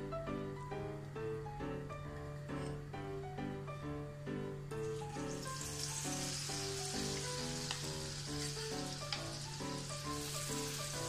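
Masala sweet corn frying in hot oil, a steady, even sizzle that continues throughout under quiet background music, with no one talking.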